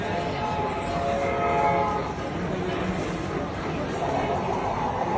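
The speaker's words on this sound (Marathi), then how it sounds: "एक ट्रेन पण आली आता आपली." A toy train rolls up to deliver food orders inside a restaurant, its steady rumble and horn-like tones running continuously amid busy dining-room chatter and background noise.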